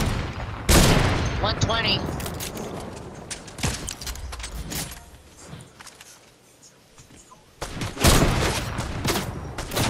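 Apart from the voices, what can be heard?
gunshots fired in Fortnite video game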